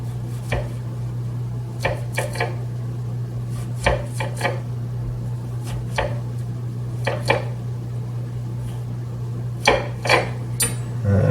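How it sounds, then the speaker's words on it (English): A knife slicing vegetables and peppers on a cutting board, with sharp irregular chops and taps at close range over a steady low background hum. "Make little slices, not all the way through, but close to the end."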